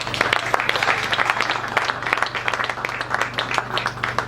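A congregation applauds throughout at a reception for a pastor's 50th birthday, with dense, steady clapping at moderate volume over a constant low hum.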